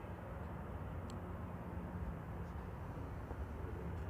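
A Boeing 767 heading into East Midlands drones steadily at a distance, a broad low rumble of jet engines that holds level throughout with no voices.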